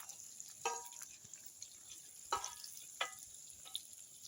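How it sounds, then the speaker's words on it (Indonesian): Tempeh frying in oil over an outdoor cooking fire in a banana garden at night, a faint soft sizzle with a few sharper crackles and pops spaced a second or so apart. "Ini tempe nih lagi digoreng"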